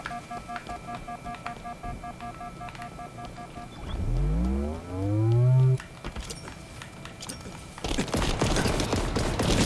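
Automatic weapon fire in the video game Halo Infinite, bursts of rapid shots with in-game beeps and a swooping tonal effect midway, then a dense loud burst of firing at the end.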